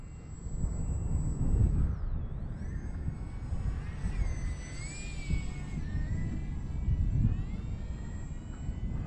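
Small LDARC Tiny Wing 450X V2 RC plane flying fast overhead, a thin high-pitched electric motor whine that rises and falls as it passes, over steady wind rumble at the microphone.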